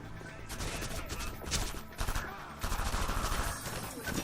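Rapid gunfire in the shooter game Neotokyo, with several bursts of automatic fire cracking in quick succession at moderate distance, separated by brief pauses.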